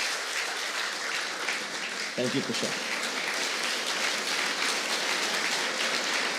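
Steady audience applause after a talk about blindness and disability, filling the whole stretch, with someone briefly speaking a thanks over it partway through.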